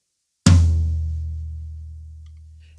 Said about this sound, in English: this is what my floor tom sounds like